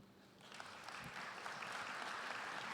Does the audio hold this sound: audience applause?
yes